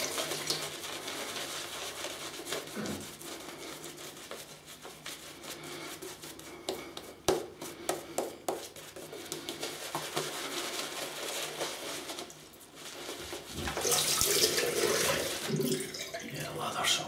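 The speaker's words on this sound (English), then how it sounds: "Just adding some water to the brush." Tap water runs into a sink while a shaving brush is wetted, a steady splashing stream with intermittent clicks and handling noises, growing brighter and louder near the end; someone talks faintly at times.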